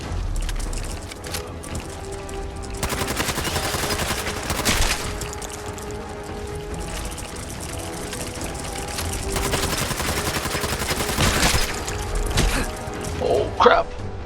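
Sustained gunfire in Fallout 4 during a raid, rapid continuous shots with heavy bursts and crashes, loud and dense throughout, ending in a sharp impact.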